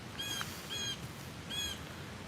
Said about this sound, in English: Do you hear the birds? They even think it's spring.